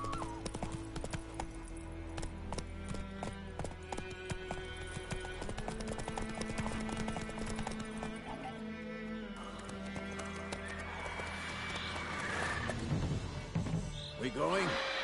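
Roach, a horse in The Witcher video game, trotting with steady clip-clop hoof beats throughout alongside game music and ambience, with a brief whinny near the end.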